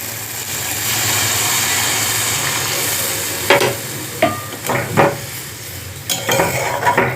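Spice paste (masala) frying in oil for an elephant foot yam and rupchand fish curry, a steady close sizzle with scraping stirs and a few sharp utensil clinks against the pan toward the end.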